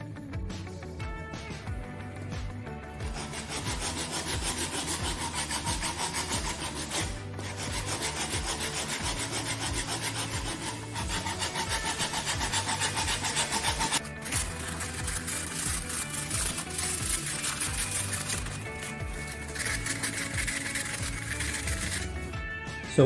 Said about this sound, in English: First we're going to use a sanding block like this one in order to sand the bulk of it